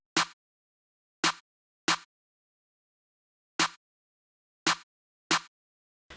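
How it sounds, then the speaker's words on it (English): Seven crisp snare hits in a simple, sparse pattern with gaps between them, each a sharp dry crack standing alone in silence. "I just put in this very simple snare pattern just to start off the drums."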